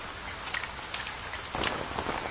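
Steady rain pattering on a surface during a motorbike ride in the hills, with scattered louder drops landing close by and the downpour growing heavier partway through.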